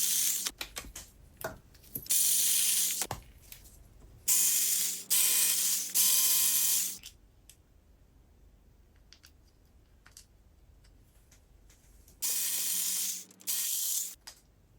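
Small parts and a plate being removed from an RC crawler gearbox (MN82s LC79), heard as loud bursts of close mechanical clicking and ratcheting separated by quieter pauses, with no talk.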